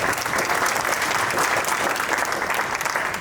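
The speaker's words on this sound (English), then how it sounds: "So big round of applause for you guys." An audience applauds after a panel of venture capital speakers, a sustained, even roar of many hands clapping, fairly loud and without voices on top.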